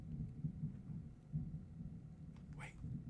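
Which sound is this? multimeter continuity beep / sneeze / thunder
thunder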